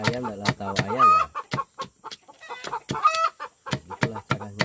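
Loud, close clucking from a hen that has just laid an egg: sharp repeated cackles with a few drawn-out squawks, coming in irregular bursts with brief pauses between them.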